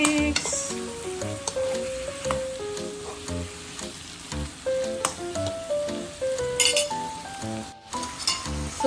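Tilapia escabeche being stirred and mixed in a pan after seasoning with pepper and salt, with a steady sizzle under scraping strokes and light utensil clinks against the pan, plus soft background music.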